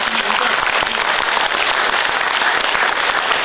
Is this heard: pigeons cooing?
no